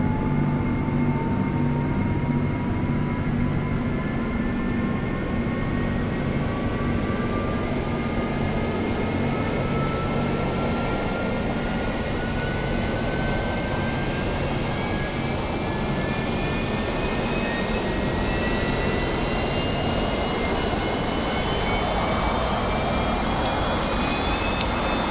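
An A-4E jet engine idling in a flight simulator: a steady, continuous whine and rumble with slowly rising tones, even in level throughout and with no voices.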